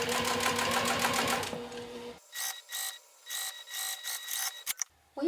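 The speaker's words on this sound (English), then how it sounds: "When I'm top stitching, I'm doing about 1/8 of an inch away from the folded edge." A sewing machine top stitching along the folded edge of a knapsack flap, running fast in a steady buzzing burst, then stopping and restarting in several short stitched runs with pauses, close and clear.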